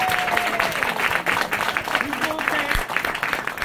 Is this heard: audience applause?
yes